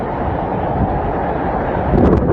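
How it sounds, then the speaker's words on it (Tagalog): Strong typhoon wind roars in a steady, heavy rush with pouring rain in Batanes, buffeting the microphone with a dense low rumble and a slight surge toward the end. "Habang rinig ang paghampas ng hangin, sabay ng buhos ng ulan."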